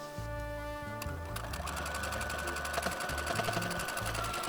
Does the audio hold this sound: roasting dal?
no